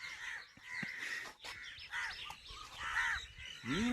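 Crows caw repeatedly at a fishing spot during a slingshot outing, with several harsh calls scattered across the clip, fairly close and clear against light outdoor background noise.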